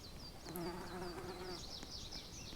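Bees buzz softly in the Roblox Super Treehouse Tycoon game, a steady faint insect drone with fluttering wingbeat tones and no talking.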